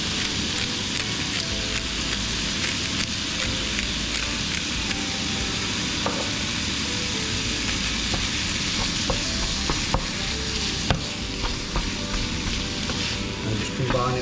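Ground beef seasoned with smoked paprika, salt and black pepper frying in a pan, a loud, close, continuous sizzle with occasional stirring scrapes and no talking.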